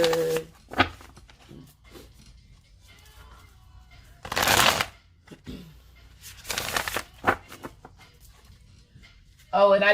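Tarot cards being shuffled in several short bursts with quiet pauses between them, close and crisp.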